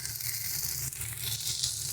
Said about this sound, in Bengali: এবারে ভালো করে সমস্ত মশলাটাকে কষিয়ে নিচ্ছি।